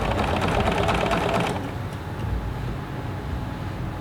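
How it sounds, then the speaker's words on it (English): A sewing machine runs steadily for about a second and a half while stitching a narrow flange on fabric, then stops, leaving quiet room noise. "we're going to be sewing even less than a scant 1/4 inch"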